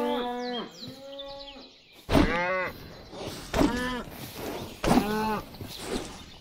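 A Minecraft cow moos repeatedly in the video game, four drawn-out, loud, close lowing calls spaced about a second apart, each starting with a sharp onset, with no talk over them.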